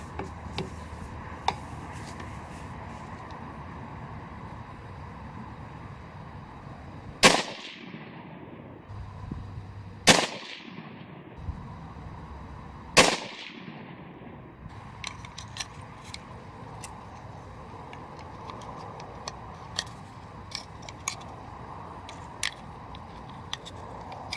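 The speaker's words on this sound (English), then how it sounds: "Shooting the 55 grain Varmint rounds first." Three sharp, loud rifle shots from a Lithgow Arms LA102 in .223 firing 55 grain Varmint rounds, spaced a few seconds apart, each followed by a fading echo, with small clicks and handling noises between.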